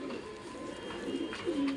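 Pigeons coo softly inside a newly built wooden coop wrapped in tarpaulin, a few low murmuring calls rising near the end over a steady background hum.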